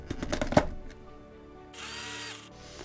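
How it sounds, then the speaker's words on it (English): Roasted chicory root being ground for chicory coffee: a short electric grinder whir of under a second, preceded by a few clattering knocks. "I think I might just grind it just a little bit more."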